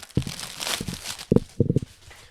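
Close, loud rustling and crinkling of a foam windscreen being fitted onto a Rode PodMic, with a few sharp bursts and thumps, no talking.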